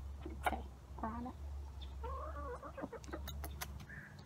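Hens and a rooster cluck and make short calls close by, with several distinct clucking bursts over a low steady hum, and no one speaking.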